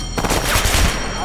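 Rapid gunfire bursts from the shooter game Hatred, loud and dense, a fusillade of shots rattling across the whole moment with no pause.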